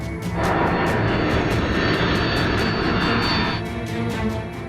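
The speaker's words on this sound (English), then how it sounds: "Finally, the plane breaks through the clouds." Loud, steady roar of an airplane's engines in flight during a plane crash reenactment, with rapid rhythmic pulsing throughout that fades partway through.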